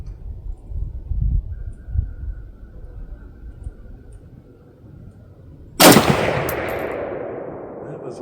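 A single loud, close shot from a 1986 Romanian AKM (PM63) rifle at an outdoor range, with a long ringing decay. Before it comes a stretch of low, rumbling background noise.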